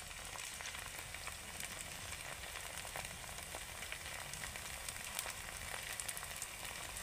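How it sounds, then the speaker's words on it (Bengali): Kurkure snacks made from leftover rice fry in oil with a faint, steady, even sizzle that keeps going without a break. "একদিক থেকে ভাজা হচ্ছে আর আমি একদিক থেকে দিয়ে যাচ্ছি"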